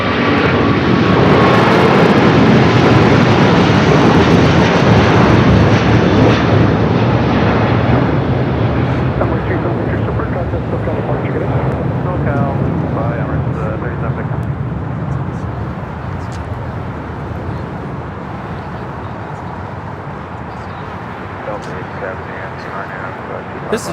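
An Emirates Airbus A380 takes off at LAX, a loud, broad jet engine roar that stays heavy for several seconds before slowly fading into the distance, with talk heard over it.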